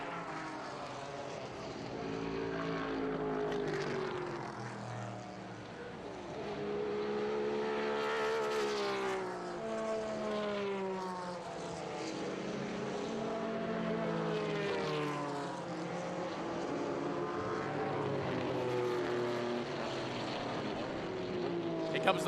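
A 1974 Porsche 911 race car in Group 5 qualifying exiting a track corkscrew: a rising and falling engine wail through repeated gear changes, heard at a moderate distance with a commentator talking over it.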